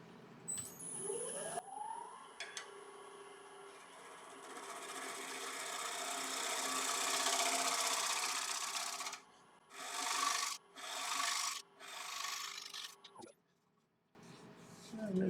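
A 1 inch round nose scraper works an ash branch-wood live-edge bowl spinning on a lathe, giving a close, continuous rasping hiss that swells, then several short scraping passes separated by pauses.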